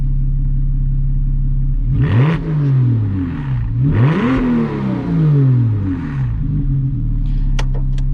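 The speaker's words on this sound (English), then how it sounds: "We'll do a couple revs." Straight-piped Porsche Cayman S engine, warm, revved twice in quick succession from a steady idle, each blip swelling to a loud, raspy roar and falling back, close and alone with no talk.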